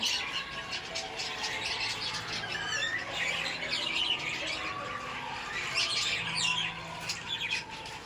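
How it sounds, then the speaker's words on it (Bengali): Several sparrows chirp and tweet in busy overlapping bursts, fairly close, against a soft steady background hum. "সকাল সকাল পাখিদের কিচিরমিচির শব্দ শুনতে সত্যিই ভালো লাগে"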